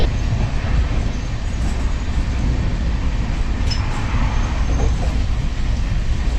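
The 15675 Guwahati Intercity runs between New Cooch Behar and Alipurduar Junction on the NJP to Guwahati route, heard from aboard as a steady, close, low rumble of wheels and carriages, with faint rattles and no speech.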